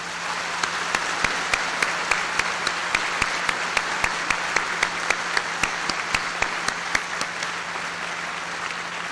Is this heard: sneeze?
no